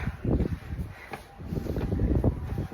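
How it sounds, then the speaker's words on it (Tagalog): Strong wind buffets the microphone in steady gusting roars, loud and close, with no other clear sounds. "Maghapon na ang lakas ng hangin."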